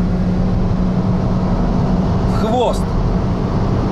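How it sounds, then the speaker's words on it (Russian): Hyundai Solaris 1.6 engine revving hard at high rpm during a street race, a loud steady drone throughout with a brief voice in the middle. "Моторчик прям крутится"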